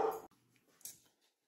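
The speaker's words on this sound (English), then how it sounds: "now you're hearing my dogs barking." Dogs bark indoors, one short bark loud and close, followed by faint, scattered yips in a quiet room.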